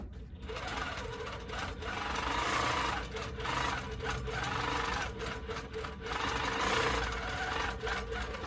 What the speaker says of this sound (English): I'm gonna turn the machine on, slide it over so I'm where the binding's gonna cover, and just do some stitches up and down that right-hand side